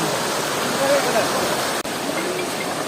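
Floodwater rushes in a steady, dense roar close by in a flooded rural area, the broadband wash unbroken apart from one brief dropout.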